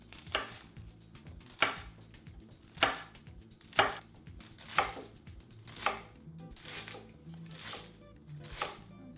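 A knife cuts through a vegetable on a cutting board for a cilantro lime salad, with about eight crisp, evenly spaced chops close up and a soft crunch between strokes, no voices.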